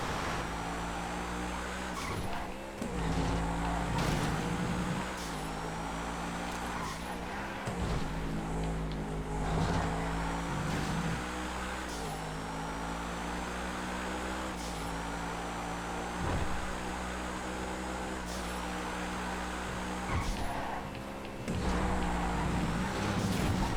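Race cars in a crowded multi-class GTA FiveM online race roar steadily with engines droning and shifting, tires squealing in several spots, loud and continuous throughout without speech.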